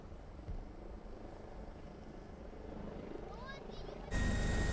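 A rescue helicopter works over a burning building in Peru, making a steady rotor and engine rumble that sits under a voice talking and grows louder toward the end.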